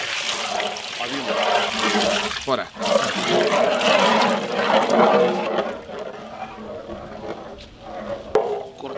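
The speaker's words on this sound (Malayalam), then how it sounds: "കുറച്ച് വെള്ളം ഒഴിക്കല്ലേ." Water gushes steadily into an outdoor village pot of chicken and egg-yolk gravy seasoned with turmeric, coriander powder and chicken masala, a loud rushing pour that tails off, while people talk over it.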